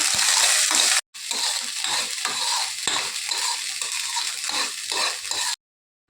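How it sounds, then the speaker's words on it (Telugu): Sweet corn kernels fry in melted ghee, a dense, bright sizzle that holds steady under repeated stirring scrapes and clicks, then cuts off abruptly. "నెయ్యి కరిగిన తర్వాత మనం ఈ స్వీట్ కార్న్ అందులో యాడ్ చేసుకోవాలి స్వీట్ కార్న్ ఇందులో యాడ్ చేసుకొని మంచిగా వేపుకోవాలి"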